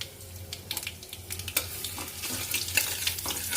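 Mustard seeds and chopped ginger fry in oil in a kadai, a soft steady sizzle scattered with quick crackling pops, fairly close and moderately quiet, with no talking.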